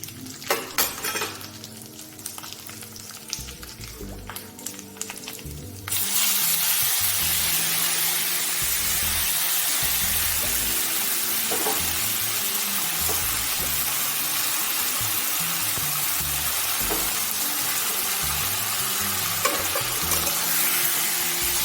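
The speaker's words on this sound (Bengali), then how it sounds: "আমি কুমড়োটা ভাজা ভাজা করবো যতক্ষণ না কুমড়োটা থেকে কাঁচা গন্ধটা বেরিয়ে যায়" Raisins and pumpkin pieces fry in hot oil in a pan for a pumpkin payesh. After a few quiet seconds, a loud, dense, continuous sizzle starts and holds steady with occasional stirring scrapes, and no one speaks.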